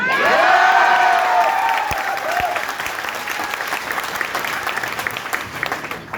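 Dense audience applause at a training workshop, loud and close at the start with a few whoops and shouts, then gradually thinning and softening into steady scattered clapping.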